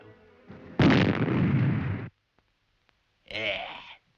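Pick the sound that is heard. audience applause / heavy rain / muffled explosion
muffled explosion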